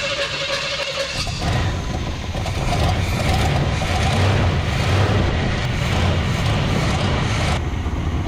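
Rusty 1973 Chevrolet C10 engine running rough as it struggles to idle, a loud, close, uneven rumble that surges and sags with a rattly mechanical edge throughout.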